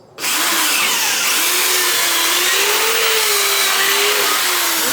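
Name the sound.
power drill boring a 1/4 inch hole through a guitar body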